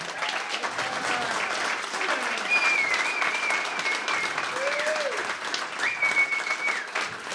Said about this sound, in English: I just want a huge round of applause for you